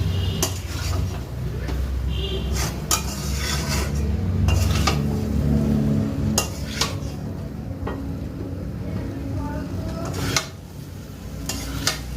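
Fried potatoes are stirred into a tomato masala in a pan, with a soft sizzle underneath and repeated sharp clinks and scrapes of a metal spoon against the pan, close and fairly quiet, with no talking.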